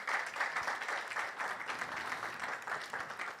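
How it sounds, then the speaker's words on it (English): A crowd at a national science and maths quiz championship launch in Ghana applauds steadily, a dense wash of clapping at moderate distance with no break. "They deserve a round of applause"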